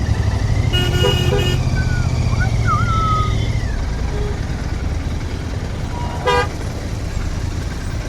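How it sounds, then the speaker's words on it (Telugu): Dense road traffic heard while riding slowly on a Royal Enfield GT650 motorcycle: a constant low engine and road rumble, several short car horn toots near the start and one more later, with a vehicle whining past in between. "ఇంకెంత ట్రాఫిక్ ఉందిరా బాబు"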